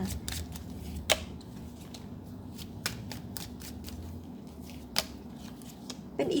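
Tarot cards shuffled by hand in a quiet room, a steady soft riffling with a few sharper snaps and taps spaced through, close and fairly quiet, with no talking.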